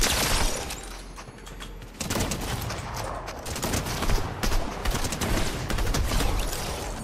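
Gunfire in Fortnite Battle Royale: rapid, loud volleys of shots crackle close by in dense bursts, with a brief lull before the firing picks up again and carries on steadily. No one speaks.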